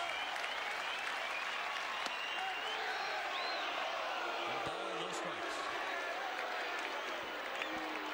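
A large ballpark crowd of about 31,500 at Fenway Park, standing and cheering with steady dense applause and roar throughout, a broadcaster's voice talking over it.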